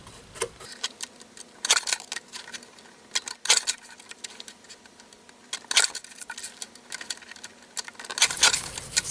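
Cardstock strip being cut into gift tags, a series of short crisp snips and paper rustles spaced through the quiet, close and fairly faint with no talking.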